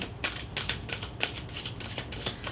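Tarot cards are shuffled steadily, with repeated crisp riffling and flapping bursts close by and no talking.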